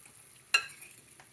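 A small pat of butter dropped into a hot pan with spaetzle gives one sharp sizzle burst, then a quieter fading crackle with a few small pops in a calm kitchen.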